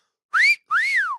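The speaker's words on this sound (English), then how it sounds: "I can wolf whistle, but I got to use the fingers." A person gives a loud, clear two-part wolf whistle using the fingers, a short rising note followed by a longer rise-and-fall note, alone without talk.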